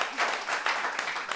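Brief audience applause during a televised discussion about parents and children, a short patter of clapping from a moderate-sized crowd, heard without talking.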